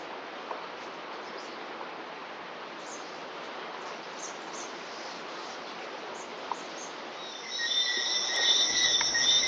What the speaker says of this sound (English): The piping sound you hear is the frogs.